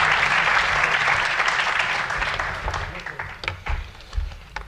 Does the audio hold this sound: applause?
yes